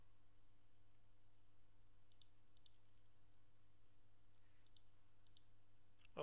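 Faint computer mouse clicks while working in Photoshop: a few isolated, quiet, sharp clicks spaced seconds apart over a low steady electrical hum.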